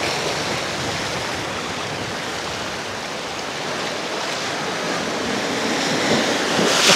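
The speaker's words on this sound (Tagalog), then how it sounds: "Kasi ng alon." Steady roaring surf from ocean waves washing onto Kamandag Beach in Ternate, Cavite, a continuous loud hiss that swells slightly toward the end.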